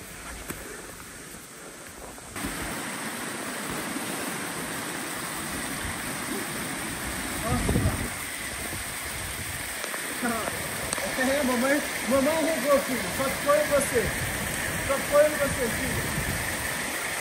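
Waterfall at Cachoeira do Grito in Capitólio, Minas Gerais, rushing in a steady broadband wash close by, with voices and brief talk breaking through over the water noise.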